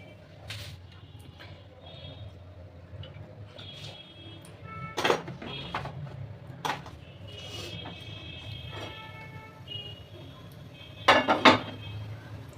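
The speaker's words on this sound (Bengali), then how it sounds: "বাসন এই থালাটা খুঁজে পাচ্ছি না।" Plates and metal dishes clink and clatter in a home kitchen while someone searches for a plate: scattered knocks and rattles over a low background hum, with a louder burst of clanking near the end.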